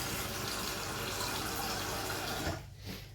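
Cold water running from a kitchen tap into a small pot, a steady close splashing rush that cuts off near the end, followed by quieter trickling.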